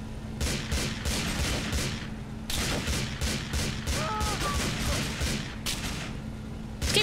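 Heavy gunfire in GTA IV: The Ballad of Gay Tony, with loud, dense bursts of shots and blasts coming in clusters, broken by brief lulls.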